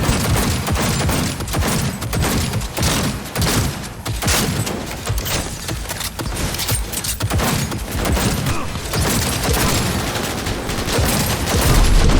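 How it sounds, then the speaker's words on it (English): Sustained gunfire from a firefight in Cyberpunk 2077, dense overlapping bursts of automatic weapons and rapid shots crackling loudly and continuously for the whole stretch with no pause. "They're opening fire!"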